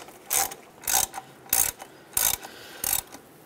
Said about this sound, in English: put the bolts in, get those started, and tighten these down